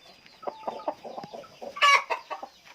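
Chickens on a Thai poultry farm with hens hatching eggs, clucking in a quick series of short, close calls that peak in one louder squawk near the end, with no talk.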